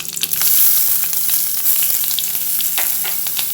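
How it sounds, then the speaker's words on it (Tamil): Curry leaves and ginger crackling loudly in hot oil with chana dal in a pan for red poha upma, a dense close sizzle with sharp popping bursts and no talking. "கருவேப்பிலை போட்டோன்னே இஞ்சி,"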